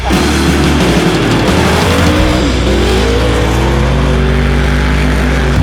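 A Ford Bronco roars through an off-road race, its loud engine droning steadily under a dense wash of other racing vehicles, with tire noise and rising revs throughout and no talk.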